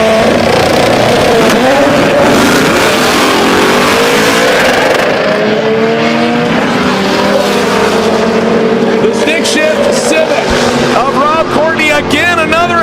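A drag racing car at Sick Week 2024 roars loudly through an 8-second pass, its engine note sweeping upward through the gears as a commentator talks over it.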